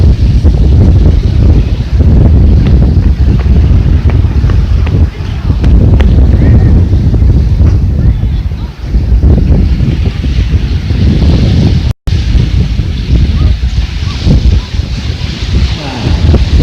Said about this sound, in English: The wind's about the same.